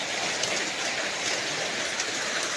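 Rain falls steadily in a dense, even hiss, close and constant throughout with no voices.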